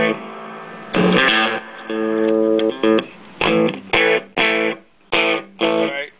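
An electric guitar plays through a Marshall JCM800 4210 combo on the footswitched clean channel with the reverb off. Sharp, distorted chords and stabs come in short repeated bursts with brief gaps between them.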